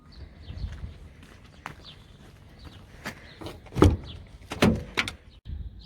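A truck cab door clunks open with a couple of sharp knocks and rattles, fairly close, amid faint background rumble and shuffling.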